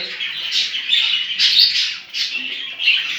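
A talking pet bird, kept for a friend, squawks and chirps repeatedly at close range in loud, harsh bursts with short gaps, no voices alongside.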